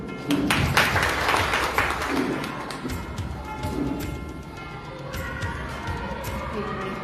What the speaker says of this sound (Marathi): म्हणून त्यांच्यासाठी एकदा टाळ्या वाजवून घेतल्या तुमच्याकडनं